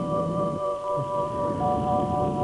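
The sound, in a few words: rain with thunder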